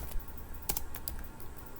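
Computer keyboard typing of a Linux terminal command, a quick run of close, crisp key clicks with a few louder taps and short pauses between keystrokes.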